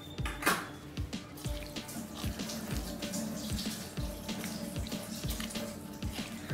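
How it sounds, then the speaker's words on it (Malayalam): Small anchovies being rubbed and rinsed by hand in a bowl of water, giving a close, steady run of sloshing and trickling with frequent light clinks against the vessel, with no voices. "നമുക്ക് വെള്ളത്തിലിട്ട് നല്ലതായിട്ട് ഒലച്ച് അത് വെള്ളം കഴുകിക്കളയാം"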